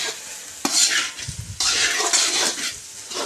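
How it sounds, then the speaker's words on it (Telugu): Tomato rice is stirred and mixed in a pan, with bursts of scraping and rustling grains over a steady sizzle, the spoon working in a few broad strokes close up. "ఇదంతా కలుపుకోవాలి, మిక్స్ చేసుకోవాలి"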